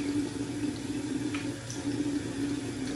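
Water running and splashing at a bathroom sink as it is splashed onto a face, a steady close-up wash of flowing water with no talk.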